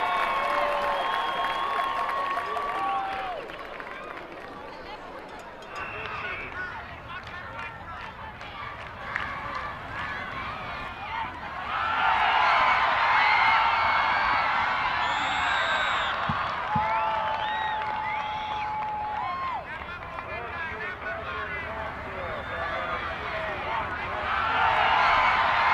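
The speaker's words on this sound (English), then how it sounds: "Let's give a big round of applause for the Montgomery Central High School dance team." A crowd in the stands cheers and claps for a high school dance team at a TSSAA playoff football game, a steady broadband roar that swells louder midway and again near the end, with announcer talk and shouts layered over it.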